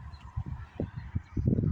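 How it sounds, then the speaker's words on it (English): Several birds give short, honking calls in a quick irregular series, fairly close, growing denser and louder at the end. "What are the birds up to? You hear 'em?"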